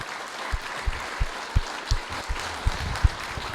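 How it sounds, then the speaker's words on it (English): An audience at an AI meetup gives a short round of applause, a steady crowd clapping with a few louder individual claps standing out at regular intervals. "let's give a round of applause real quick for that"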